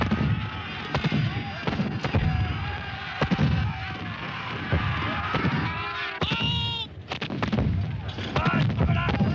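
Cannon fire from English artillery at the 1746 Battle of Culloden, staged for a historical war docudrama: repeated sharp booming reports in rapid, irregular succession over a dense, continuous din of battle, with voices mixed in.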